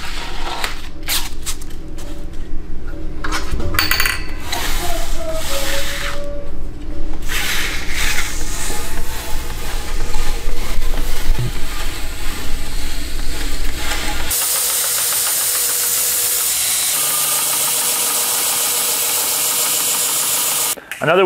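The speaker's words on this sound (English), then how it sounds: "Now you're ready to install your belt and get grinding." A belt grinder fitted with an AmeriBrade WIP waterfall integral plunge attachment runs with a loud, steady motor drone, rubbing and rattling, shifting into a bright, hissing grinding tone in the last few seconds.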